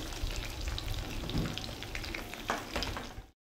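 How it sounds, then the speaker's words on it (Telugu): Cumin seeds fry in a pan, giving a continuous close sizzle and crackle with a few sharper pops, alone and without any talk. "జీలకర్ర కూడా ఫ్రై చేసుకున్నాము."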